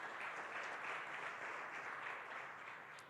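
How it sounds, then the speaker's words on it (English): Audience applause rings out at an event launch, a steady, faint wash of many hands clapping for about three seconds, tapering slightly at the end. "I think we can clap for ourselves"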